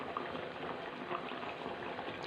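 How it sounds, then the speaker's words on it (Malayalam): A thick curry sauce with ash gourd and dried fish bubbles and simmers steadily in a pot, soft continuous blooping at close range. "അരപ്പൊക്കെ നന്നായിട്ട് തിളച്ചിട്ടുണ്ട്"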